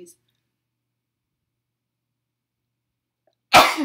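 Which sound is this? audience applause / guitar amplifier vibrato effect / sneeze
sneeze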